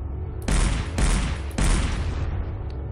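Three loud bursts of gunfire from the shooter game SiN, each a sharp blast with a ringing tail, arriving about half a second apart and then fading out, with no talk over them.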